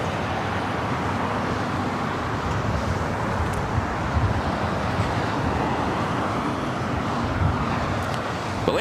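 A Delta A350-900 airliner arriving from Paris lands at LAX, heard as a broad, steady jet rumble mixed with wind and roadway noise, with no speech and few distinct events.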